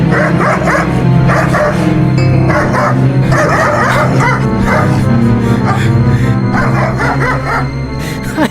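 A pack of dogs barks, yips and whimpers continuously in a radio drama sound effect, the loud excited chorus running throughout with overlapping voices and shouting mixed in.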